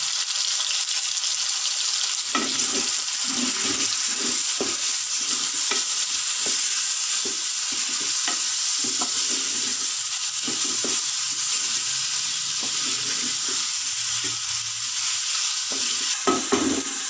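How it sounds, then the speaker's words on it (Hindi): Onions, tomatoes and chillies fry and sizzle steadily in a pan, with repeated scraping stirs of a spoon breaking through the constant hiss at a close distance; no one speaks. "अब हम इसमें प्याज, टमाटर, मिर्चें ऐड कर लेते हैं। इसे अच्छे से भून लेंगे अंदर और गलने तक पकाएंगे।"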